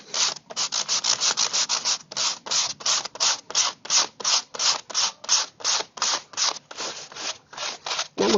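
Sandpaper rubbed by hand over a surface in steady back-and-forth strokes, about three per second, close and fairly loud, a continuous rhythmic scratchy rasp with no talking.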